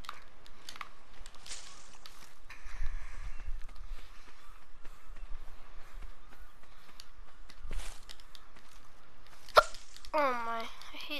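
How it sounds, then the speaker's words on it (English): A single hiccup is heard as a sharp, brief burst near the end of a stretch of in-game footsteps and ambient sound from a survival game, followed by a voice. "Oh my, I hate the hiccups."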